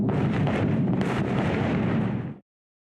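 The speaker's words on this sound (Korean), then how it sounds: "곳곳에서 굉음과 함께 폭발이 일어납니다." Missile strikes explode across a city during an Israel–Hezbollah exchange: a loud, continuous roaring blast with dense rumbling fills the moment, then stops sharply, no talking heard.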